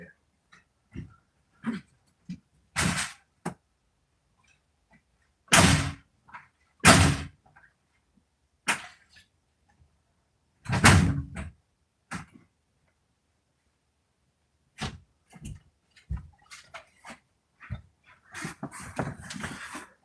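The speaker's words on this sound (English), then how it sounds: "Apparently, I need to repair my front door." A front door in need of repair is handled, giving sharp knocks, thuds and a couple of loud slams spread across a quiet stretch, with faint rattling toward the end.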